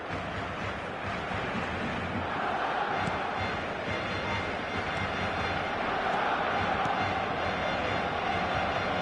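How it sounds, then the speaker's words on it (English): A stadium crowd in the eFootball video game roars and cheers, a dense, continuous wash of noise at moderate level for the whole stretch. "Certainly gave this crowd something to really cheer about."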